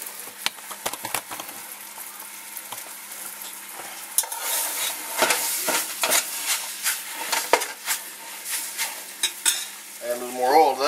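Deer meat frying in a hot oiled pan gives a steady crackling sizzle, with occasional stirring scrapes that grow busier and louder midway, plus a few light utensil clinks near the end.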